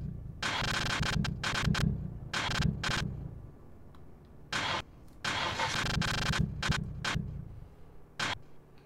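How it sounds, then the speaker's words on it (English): Repeated bursts of a car engine cranking without catching in Street Legal Racing Redline, on an RB26DETT-swapped 1965 Ford Falcon, several uneven starter attempts separated by brief pauses, fairly loud and close. "I've obviously made a mistake somewhere because the car won't start"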